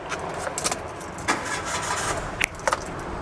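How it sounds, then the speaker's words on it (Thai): A Mitsubishi Attrage 1.2 GLX automatic is started up close. Keys jangle and a brief ignition crank is followed by the engine catching into a smooth, quiet idle. "มาเดี๋ยวผมสตาร์ทรถให้ดูนะครับ"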